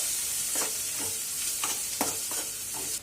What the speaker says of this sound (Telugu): ఇప్పుడు దీన్ని కూడా ఒకసారి ఫ్రై చేద్దాం.